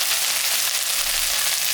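Potato and taro pieces frying in oil in a pan for a curry, giving a steady, close hiss of sizzling that holds evenly throughout with no voices.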